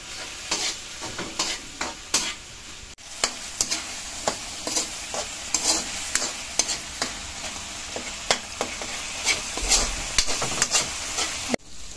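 Alamang shrimp paste cooks with sugar in a pan while being stirred, with a constant sizzle and frequent crisp scraping and clacking strokes of the utensil, close and continuous, no voices.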